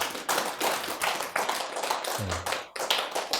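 A Korean church congregation claps in encouragement for a family, a crisp burst of many hands clapping with rhythmic swells, close and fairly loud with a brief low voice-like sound midway.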